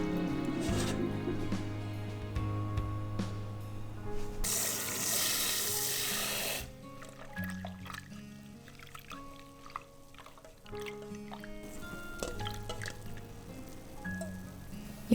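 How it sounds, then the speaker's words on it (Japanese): Salmon roe (ikura) is washed by hand in water after being separated. Close, soft drips and squishy swishing come first, then a quieter stretch with small splashes and clinks, with no talking. "ほぐし終わったイクラを今度はお水で洗っていく"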